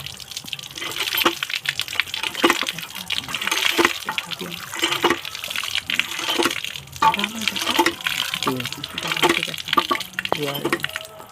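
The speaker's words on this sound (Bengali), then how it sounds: "এবার আমাদের পেঁয়াজটা ধুয়ে নেওয়া হবে।" Tap water runs and splashes unevenly over onions being washed by hand in a kitchen, close and moderately loud, with a person talking over it.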